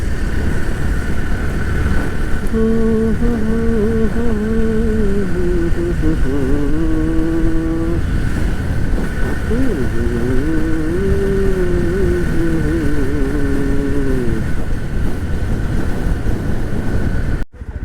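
A Yezdi Roadster motorcycle engine drones loudly and steadily while riding, its pitch rising through gears and dipping at each shift, with strong wind rush throughout.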